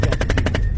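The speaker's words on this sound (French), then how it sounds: "Vous avez entendu les coups de feu." A rapid burst of gunfire, about eight sharp shots in quick succession, loud and close.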